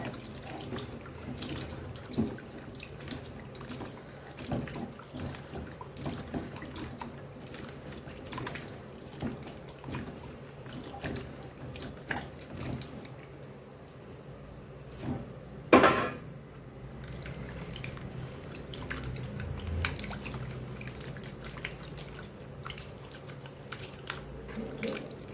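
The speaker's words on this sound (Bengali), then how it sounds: "এবার এই আমটাকে আমি 4-5 বার করে ধুয়ে নিব।" Raw green mangoes are washed by hand in water several times for a pickle, giving soft splashing, dripping and sloshing in a basin or sink, uneven and fairly faint, with an occasional louder splash and clink.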